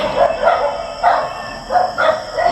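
A dog barks several times in a steady run of short yelps, set back in a noisy space with constant background hiss.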